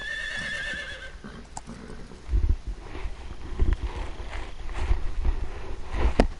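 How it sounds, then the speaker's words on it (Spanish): A horse in Metal Gear Solid 3 gives a clear whinny at the start, followed by a run of dull hoof thuds and clip-clops close by against faint wind. "El caballo."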